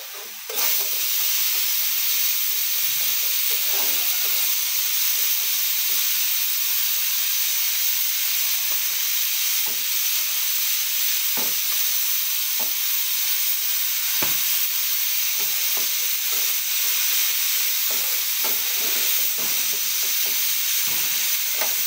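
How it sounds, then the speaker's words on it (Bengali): Steady, loud hiss and sizzle of spices frying in a cooking pan, continuous throughout with faint scattered pops and stirring underneath. "সব মশলা দিয়ে দিয়েছি, একটু কষিয়ে নেব।"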